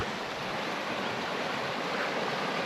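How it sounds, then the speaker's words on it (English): River rapids roar in a steady, dense broadband rush of churning water, loud and continuous throughout with no voices. "Those are pretty big rapids there. But here's the river."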